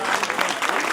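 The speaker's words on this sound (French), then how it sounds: "On l'applaudit très fort," Audience applauding at the 2017 Bugatti awards ceremony in Molsheim as a Type 57 owner is honoured, with a steady, dense clapping that fills the room for about a second.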